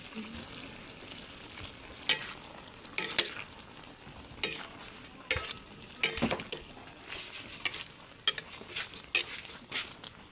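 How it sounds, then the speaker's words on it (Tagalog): Taro and fern vegetables with smoked fish get stirred in a pan, giving a steady sizzle with repeated close scrapes and clinks of a utensil against the pan in an uneven rhythm, no voices. "haluin na natin"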